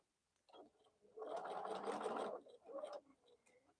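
Bernina sewing machine stitching quilt fabric, a soft close whirring in short runs: a brief burst, a longer steady stretch, then another short burst.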